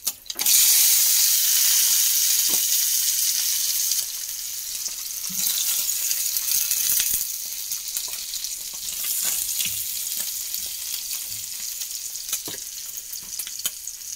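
Garlic fries in a pan with a loud, close, hissing sizzle that eases slightly after a few seconds and then carries on steadily, with occasional small clinks.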